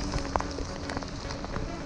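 Cold rain drops falling outdoors on a trail ride, a dense, steady patter close by with a few louder splashes over a constant wash.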